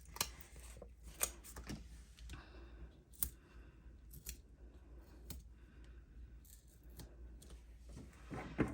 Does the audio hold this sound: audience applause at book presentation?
no